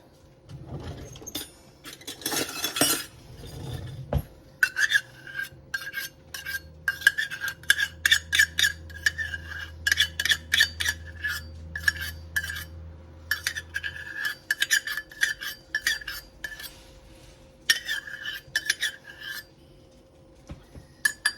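A metal spoon scrapes and clinks against a bowl while scooping thick caramel sauce, a long run of rapid, uneven scraping strokes with no talking and a low hum underneath.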